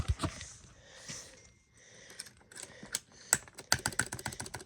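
Keystrokes on a keyboard with lubed Cherry MX Red switches, soft and muted, start sparse and irregular, then speed into a quick, steady burst of close clicks near the end.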